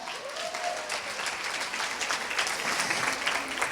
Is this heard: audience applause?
yes